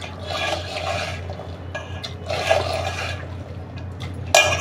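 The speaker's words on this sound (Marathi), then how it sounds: "हा सगळा कांदा असा तेला मसाला असा सगळा हाताने रगडून घ्यायचा" Chopped onion rubbed by hand with salt, oil and masala makes three separate rasping, squishing bursts with short pauses between, close and moderately loud.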